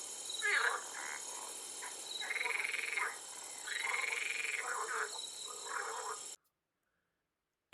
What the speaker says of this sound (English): Frogs croak.